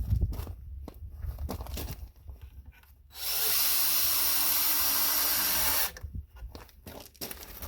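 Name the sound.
power drill driving screws into pallet boards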